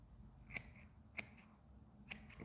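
Scissors snipping fly tying fibers for a bass bug, with three crisp close cuts spaced about half a second apart over a quiet background.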